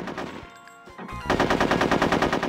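Rapid gunfire in the video game Conker's Bad Fur Day, a fast, loud, evenly spaced burst of shots that starts after a short quieter passage and continues steadily to the end.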